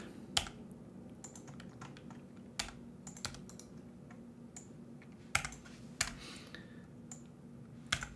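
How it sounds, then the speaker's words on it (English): Sparse, irregular keystrokes and clicks on a computer keyboard, close and quiet over a soft steady background hum. "my new keyboard is a little bit weird."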